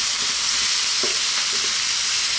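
Spice powders sizzle and fry in a hot pan while being stirred for a potato mushroom curry, giving a steady close hiss broken by soft scraping strokes of the spoon.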